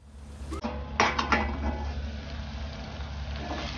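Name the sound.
lid placed on pot of prawn masala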